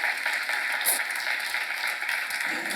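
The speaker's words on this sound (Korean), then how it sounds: "박수 한번 해주세요." Seminar audience in a church clapping together, a steady mid-level burst of applause sustained throughout with no voices over it.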